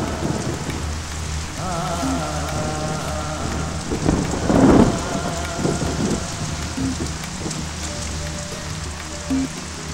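A heavy monsoon downpour in a Malayalam film scene: dense, steady rain hissing throughout, with a low thunder rumble swelling near the middle.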